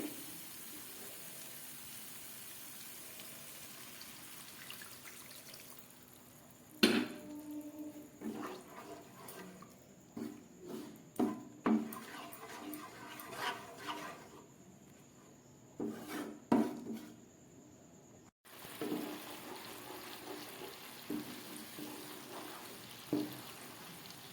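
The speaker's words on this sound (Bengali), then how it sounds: "এবার এই দুধটা আমি এর মধ্যে দিয়ে দিচ্ছি আর একটু সরিয়ে নেড়ে নিই" Boiled milk pours into egg korma in a pot, giving a soft liquid splash, followed by a run of intermittent scraping and stirring knocks against the pan at close range, fairly quiet overall.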